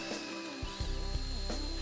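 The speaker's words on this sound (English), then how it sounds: "thoroughly stir together using a power whisk fitted in a low-speed electric drill" Low-speed electric drill spinning a power whisk to stir two-part epoxy flooring adhesive in its resin container, a steady motor whir with short bursts and speed changes, close and alone.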